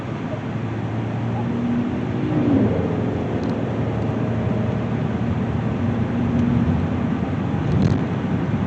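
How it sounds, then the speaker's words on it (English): Steady broadband road and tire roar inside a 2016 Kia Sedona minivan driving along a road, a constant droning rumble with a faint engine hum and no distinct events, and nobody talking. "It's either road or tire noise."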